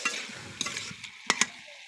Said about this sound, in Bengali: এখন দিয়ে দিব ফুলকপি আলু। ফুলকপি আবার একটু কষায় নেব।